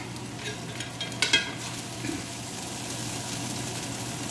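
Steamed rice cake (char koay kak) is stir-fried in a pan with a steady sizzle and a few brief scraping stirs early on, close and continuous.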